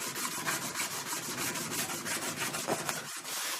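A track cleaner is rubbed back and forth along Scalextric slot car track, giving a steady close scrubbing rasp with rhythmic strokes and no talk.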